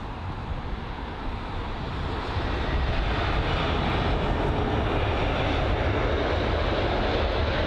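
A Scandinavian Airlines Airbus A320neo roars in on arrival at London Heathrow, its engine noise loud, broadband and steady, swelling slightly as it nears with no talk over it.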